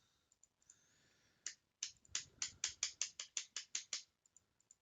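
Rapid clicking keys on a wireless computer keyboard whose batteries seem to be failing, a quick run of about a dozen sharp, fairly close taps bunched in the middle with a few lighter clicks before and after.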